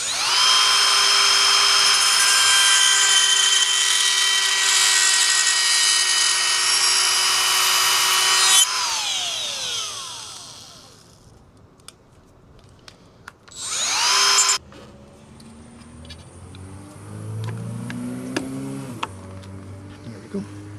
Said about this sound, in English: I'm gonna have to trim the plastic here.